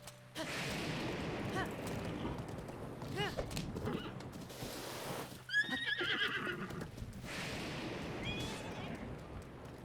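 Horse neighing and whinnying in the game Breath of the Wild, with repeated calls mid-clip over a busy in-game soundscape of hooves and ambient noise, people talking throughout.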